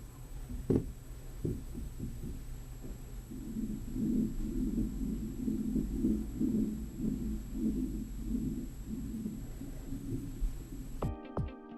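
Low-frequency floor impact noise from an upstairs apartment, heard from the unit below: a dull, muffled rumble with a few soft thuds, then steady low throbbing that persists for several seconds before cutting off abruptly.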